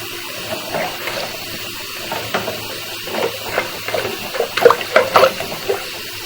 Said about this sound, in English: we are going to leave the sink run at this time to see if we can flush the line out more